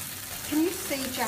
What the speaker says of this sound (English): Thank you for joining us just in time for halloumi frying.